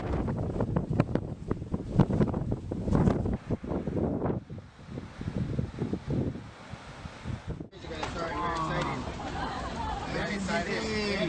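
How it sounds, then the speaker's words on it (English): Powerful wind gusts blowing a waterfall back upward make a heavy, rushing roar that buffets the microphone, broken by sudden cuts, while a voice talks over much of it. "Powerful winds can cause a waterfall to flow in reverse."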